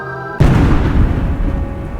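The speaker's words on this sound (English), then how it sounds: "The explosion is too loud." Explosion sound effect in a Vegas Pro editing project, a sudden loud deep boom that rumbles on and slowly decays after a short quiet tonal lead-in.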